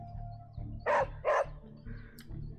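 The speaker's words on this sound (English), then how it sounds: "Hello, little doggy." A small dog in the video game Midnight Suns gives two quick, loud barks in a row over a low steady game ambience, with a softer sound following.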